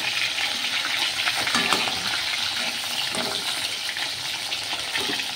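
Fish frying in a pan of hot oil, a steady loud sizzle and crackle running continuously throughout, with no talking.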